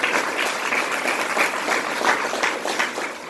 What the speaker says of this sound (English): if we could give a round of applause to President Tim Jens.